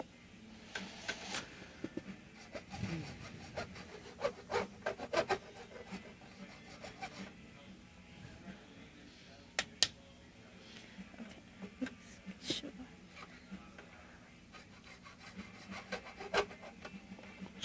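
A file rasps back and forth over guitar frets as the fret corners are rounded off during fret dressing, with steady close scraping strokes and sharp clicks over a quiet room.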